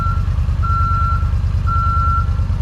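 A reversing truck sounds three evenly spaced, high electronic beeps over a loud, steady low engine rumble nearby.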